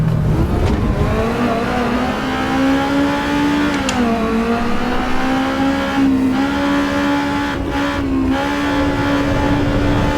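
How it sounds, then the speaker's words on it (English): A race car engine in Assetto Corsa EVO holds a steady high drone, dipping and rising in pitch as it shifts and revs, continuous and loud. "Ooh, this car sounds so good."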